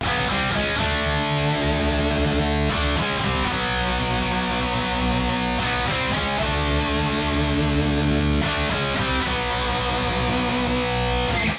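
Odd double-stop guitar overdub from the final chorus of a song, dense sustained distorted chords layered over bass, loud and continuous with no talk.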